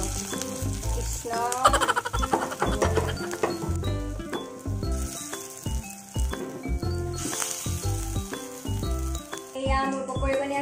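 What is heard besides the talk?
pakoras frying in oil in a karahi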